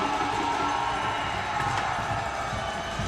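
Hockey fans of Florida Gulf Coast cheering at an ice rink during a college national championship game, a broad, steady roar of crowd noise that stays even throughout, with no distinct voices standing out.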